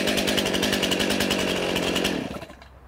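A STIHL chainsaw runs loud and close at a steady high idle, then is shut off and winds down into near silence.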